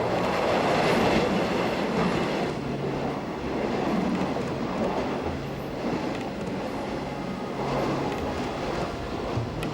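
The Eastern & Oriental Express rolls along its rails after leaving Singapore, giving a steady, loud rumble with rhythmic wheel clatter and a faint metallic edge throughout.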